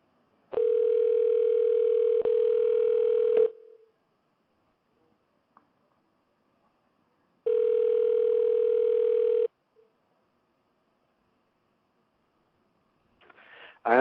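A telephone dial tone sounds after a dropped call: two loud, steady, unbroken tones of about three and two seconds, separated by near-silence, then a faint clatter at the end.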